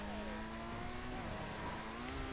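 A hypercar in a racing video game, its engine note rising steadily as it accelerates, a smooth continuous tone of moderate loudness with no talking.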